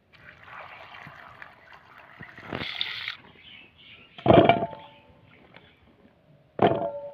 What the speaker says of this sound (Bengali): এবার আমি জল দিয়ে পরিষ্কার করে ধুয়ে নেব